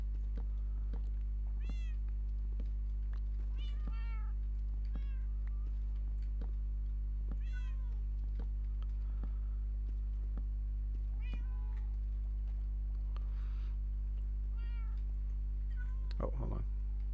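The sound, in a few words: cat meowing in the video game Minecraft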